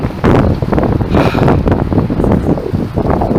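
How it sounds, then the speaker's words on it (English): Heavy wind batters the microphone, producing a loud, constant rumbling roar with gusty fluctuations and no other clear sounds. "it's really, really windy."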